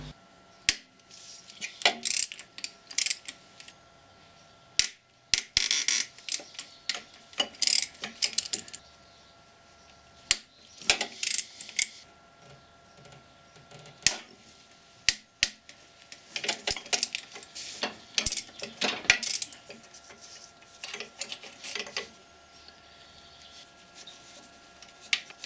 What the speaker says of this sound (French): je vais dévisser les quatre boulons qui maintiennent le compresseur